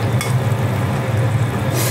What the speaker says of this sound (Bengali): ভালো করে ঝোলের মধ্যে মিশিয়ে নিচ্ছি